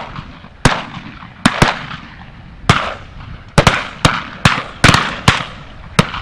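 Shotgun blasts from Eley Hawk VIP steel cartridges fired at ducks outdoors at Cefngwyn Hall, about ten sharp loud reports at irregular intervals, each with a short trailing echo over faint background ambience.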